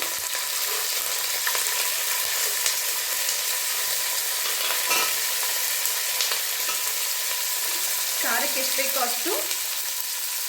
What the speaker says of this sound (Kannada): ಸ್ವಲ್ಪ ಬಣ್ಣ ಚೇಂಜ್ ಆಗೋ ತನಕ ಹಾಗೆ ಎಣ್ಣೆಯಲ್ಲಿ ಫ್ರೈ ಆಗಲಿ. ಕರಿಬೇವು ಸೊಪ್ಪು ಹಾಕ್ತಿದ್ದೀನಿ.